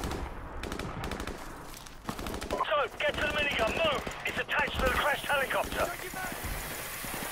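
Minigun firing in the Modern Warfare Remastered video game: rapid sustained gunfire and crackling shots run through the clip, with a player talking over the shooting.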